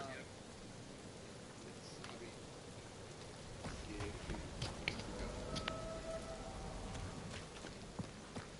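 Rain falls continuously in the Guardians of the Galaxy video game, a broad steady wash with scattered drop ticks, the shower thickening slightly in the second half.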